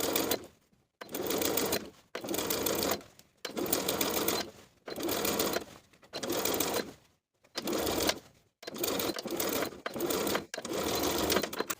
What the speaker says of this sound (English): sewing the facing to the seam allowance underneath with about 1/8